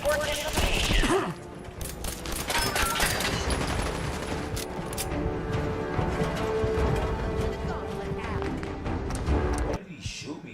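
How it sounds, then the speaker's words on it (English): Dense gunfire bursts from the Fallout 4 video game, loud and nearly continuous over layered combat effects and music for about ten seconds before a brief drop near the end. "What did he shoot me with?"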